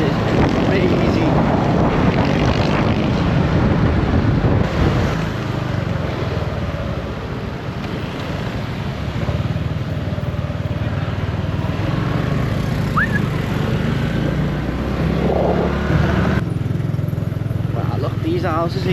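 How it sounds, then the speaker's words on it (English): Motorbike taxi ride through a town in the Philippines, with steady close engine drone and heavy wind buffeting on the microphone throughout, and engine pitch shifting as the bike moves. "Getting a taxi on a motorbike"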